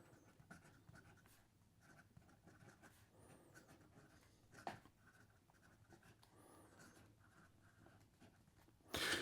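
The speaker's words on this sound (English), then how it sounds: "And here we go with the rest of the writing sample." Fountain pen with an 18 karat gold medium nib scratching steadily across paper, a soft, continuous close scritching with small pauses, faint and alone, ending in a brief louder rustle.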